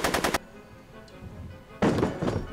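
Gunfire in Back to the Future: The Game during an alleyway shootout: a quick burst of several loud, close shots, a short lull, then another rapid volley of sharp reports, with no talking.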